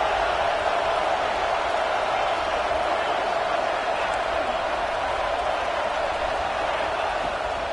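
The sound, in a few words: stadium crowd cheering at football game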